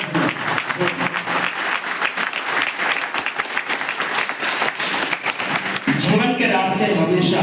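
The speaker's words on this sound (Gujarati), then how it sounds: "જોરદાર તાળીઓ બજાવો." Loud sustained audience applause at an office farewell program, dense clapping throughout, with a voice and music rising at the end.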